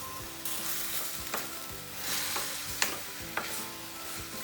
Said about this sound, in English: mix these ingredients well.